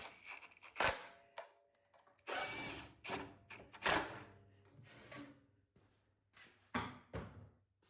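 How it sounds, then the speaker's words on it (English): Nuts are tightened back onto an ETQ-200 generator, giving a series of short, close, irregular tool bursts separated by brief quiet gaps. "Just going to put these nuts back on. Tighten them up."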